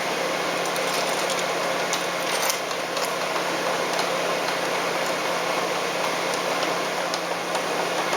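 Ratchet turning to bolt a motor onto a wing build, a continuous rapid clicking of the pawl, close and steady over a hiss of background noise.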